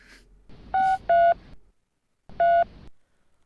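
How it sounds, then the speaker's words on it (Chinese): Three short electronic keypad beeps as a phone number is dialed, two in quick succession, then a pause before the third. "等我打电话。"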